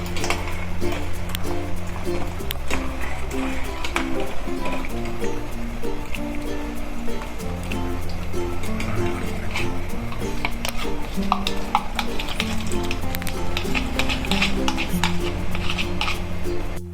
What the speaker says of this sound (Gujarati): એક હાથે આપણે નાખવાનું છે ધીમે ધીમે અને ચલાવતા રહેવાનું છે